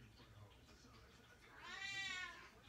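A cat gives one drawn-out, rising-and-falling meow, faint and a little distant, after a stretch of quiet room hum.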